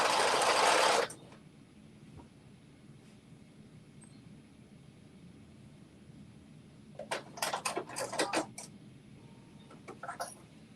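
A sewing machine makes a short whirring run, then goes quiet, followed later by a series of sharp clicks and brief taps as a small back stitch is worked on an off-the-shoulder top.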